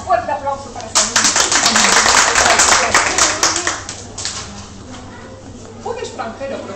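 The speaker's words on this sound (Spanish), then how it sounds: "un fuerte aplauso para esta niña" Warm, loud applause from a group of children in a classroom for a young girl who answered correctly, swelling after a few scattered claps and fading out, with someone speaking over the end.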